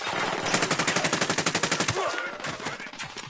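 Rapid automatic gunfire in Ghost Recon Wildlands, a steady burst of evenly spaced shots lasting about two seconds, loud and close, followed by scattered softer shots and rumble.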